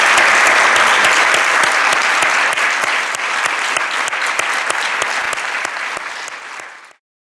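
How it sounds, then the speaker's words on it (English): A lecture-forum audience gives a long, loud, dense round of applause that holds steady for about seven seconds and then stops abruptly. "And if we could give them a great round of applause,"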